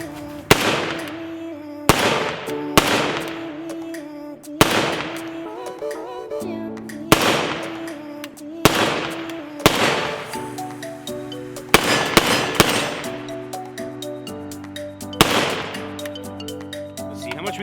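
Rapid bursts of AKS-74u rifle fire with 5.45 rounds, roughly nine loud sharp cracks spread irregularly, each ringing out with a long echoing tail at an outdoor range.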